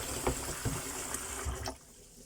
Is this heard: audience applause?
no